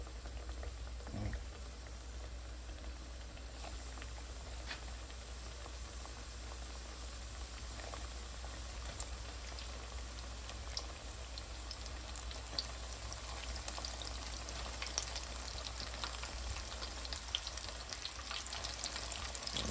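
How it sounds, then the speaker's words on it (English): Garlic fish and shrimp coated in flour and cornstarch fry in a pan with a steady, dense sizzle and bubbling that holds evenly throughout, close and continuous with no talk. "So we should get a beautiful fry"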